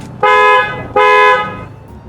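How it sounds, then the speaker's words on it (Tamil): A trumpet-style car horn fitted to a Kia Carens, in the manner of Skoda and BMW horns, gives two loud, close, bright blasts of about half a second each with a short gap between. "ஒரு ட்ரம்பெட் ஹார்ன் ஸ்கோடா பிஎம்டபிள்யூவில் வர மாதிரி ஃபிக்ஸ் பண்ணி கொடுத்துருக்கோம்"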